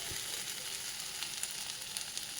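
Green chillies, onion, garlic and ginger fry in a pan with a steady, close, crackling sizzle that runs unbroken and evenly loud throughout, with no voices.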